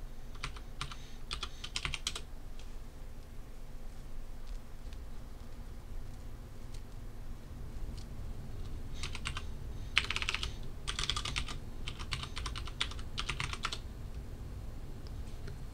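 Someone types a password on a computer keyboard, a steady stream of soft key clicks with several denser, louder bursts toward the end over a faint room hum.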